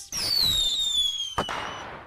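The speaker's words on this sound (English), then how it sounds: "Cue the fireworks!" Fourth of July fireworks give a long whistling rise and fall with a sharp crack partway through, loud and continuous with no voices.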